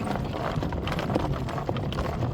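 Horse hooves clip-clop steadily as the horse pulls a cart in harness on a morning drive, a close, continuous, even rhythm with no talking.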